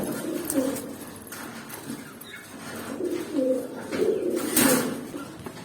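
A pigeon coos in soft, low, repeated phrases at close range over a light background hiss, with a faint voice in the background.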